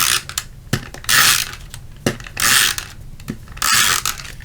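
A SNAIL adhesive roller runs glue tape along the edge of embossed card stock, giving three separate scratchy, ratcheting rolls, each about half a second to a second long. Short clicks fall between them, close up and clear, with no one talking.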